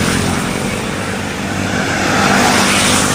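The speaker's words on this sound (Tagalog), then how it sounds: "Daming sasakyan." Cars pass on a busy road near a rural Philippine village, a dense, loud, steady rush of traffic noise with engines and tires blending into a continuous roar, no talking heard.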